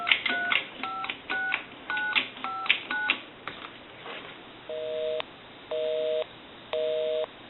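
On a single-slot payphone, a rapid burst of touch-tone dialing beeps gives way to an evenly spaced busy signal, three steady tones with gaps, faint and alone.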